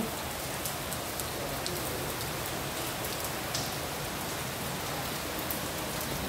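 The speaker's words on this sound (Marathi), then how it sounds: "5 वाजेपासून पाऊस चालू आहे जोरदार." Heavy rain falling in Bajajnagar, Sambhajinagar, a thick unbroken roar of drops on surfaces, uniform in loudness from start to finish, with occasional crisp splatters and no talking.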